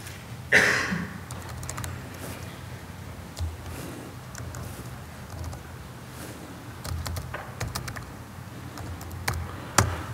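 A presenter types slowly on a computer keyboard during a live technical talk, with sparse, quiet keystrokes clicking irregularly in a faintly humming room.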